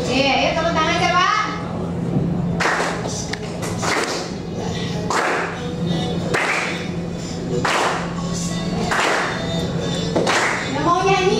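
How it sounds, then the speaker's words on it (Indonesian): Children clapping their hands together in a classroom, rhythmic group claps repeating about once a second in steady bursts, mixed with kids' chatter and a teacher's voice. "Ayo tepuk tangan coba."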